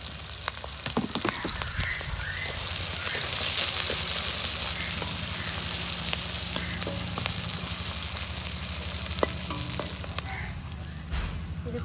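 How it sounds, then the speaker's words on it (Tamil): Onions and green chillies fry in hot oil, a steady, moderately loud crackling sizzle that runs throughout with scattered sharper pops and occasional faint scrapes. "நல்லா பொரிஞ்சிட்டு எண்ணெய் நல்லா கொதிச்சுட்டு தானே இப்போ வெங்காயத்தை போடுவோம்."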